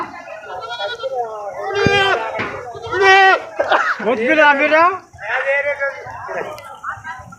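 Goats at a busy goat market bleat loudly and repeatedly in wavering cries, several overlapping close by, while people talk in the background.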